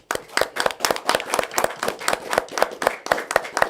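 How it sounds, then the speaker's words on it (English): A small group applauds at a city council meeting honoring two men for 20 years of service, with quick, fairly loud, uneven clapping that comes in dense bursts close by. "give Captain Lee Williams and Ben Hogg a round of applause"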